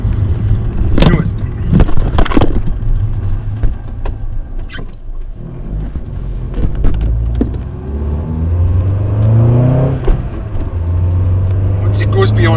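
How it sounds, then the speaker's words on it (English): A poorly running 1.6 FSI car engine revs slowly, its pitch climbing gradually as it struggles below 3000 rpm, with sharp clatters early on and a person talking over it. "It should rev quite well, but it just takes a while to get up the revs"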